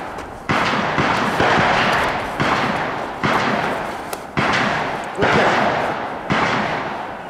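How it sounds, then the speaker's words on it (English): Six shots from a Taurus 856 six-shot revolver fired from a pocket ring out at roughly even intervals, each a sharp, loud report with a lingering outdoor echo, close to the listener. "So, six rounds through the revolver."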